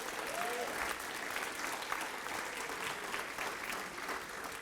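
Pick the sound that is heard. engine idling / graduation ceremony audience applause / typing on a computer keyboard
graduation ceremony audience applause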